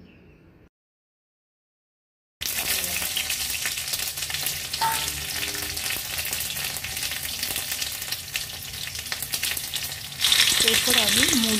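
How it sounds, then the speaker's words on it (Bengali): Mustard seeds and green chillies hit hot oil in a kadai with a sudden loud, steady sizzle and crackle after a short silence, the frying swelling brighter near the end; no talking. "তেলটা গরম হয়ে গেছে, সর্ষে আর কাঁচা লঙ্কা ফোড়ন দিয়ে দেব।"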